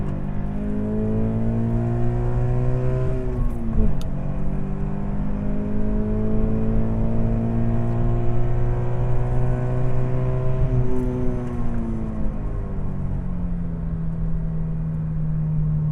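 A Scion FR-S with a VRTuned ECU flash accelerates hard in second gear from about 45 mph, its engine note climbing steadily toward roughly 7,800 RPM. The tone rises loud and continuous for the full stretch, with a short dip around a shift point.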